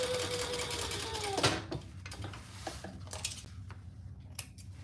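A sewing machine basting fabric while a bell-shaped item is being sewn, giving a short mechanical whir that breaks off, then quiet handling clicks and small taps. No voices.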